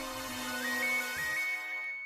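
A phone ringtone plays a short, bright electronic melody of repeating high tones over a soft low hum, moderately quiet, then cuts off abruptly at the end.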